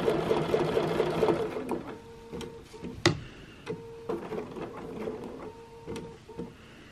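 A sewing machine quilting small circles on a quilt runs steadily with a fast buzzing stitch rhythm, then slows into intermittent short runs and clicks, close and clear.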